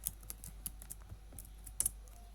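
Python code is typed on a computer keyboard in a steady stream of light, close keystrokes with a few sharper clicks, quiet over a low constant hum.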